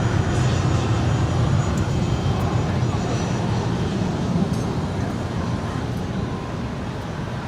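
An Aerounion Airbus A300 jet taking off at LAX gives a loud, continuous engine roar that stays strong and fades only slightly toward the end, with faint voices beneath it.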